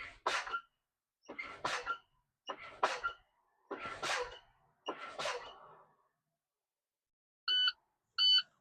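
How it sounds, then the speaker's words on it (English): Five sharp bursts of hissing air are followed by two loud, evenly spaced electronic beeps of a truck's low air pressure warning alarm, sounding at 65 psi as brakes are fanned down in the cab. "my light and alarm for my primary and secondary tank has went off"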